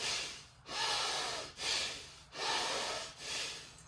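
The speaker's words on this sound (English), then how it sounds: "Bhastrika adds a forceful inhale and exhale, like you're squeezing or pulling the handles of a bellows" Forceful bellows-style Bhastrika yoga breathing: four loud, rhythmic breath cycles of sharp nasal inhales and exhales, close and alone with no talk.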